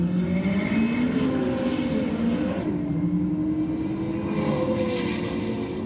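A VF car and a turbocharged Hilux sleeper race side by side down a drag strip, engines roaring loud and close with rising and shifting pitch as they accelerate away.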